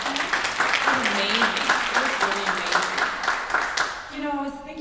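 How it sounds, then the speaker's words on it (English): Audience applause at a small business resiliency symposium in Los Angeles, steady clapping with voices mixed through it, fading near the end as a speaker's voice comes in. "could we just give them another round of applause for that"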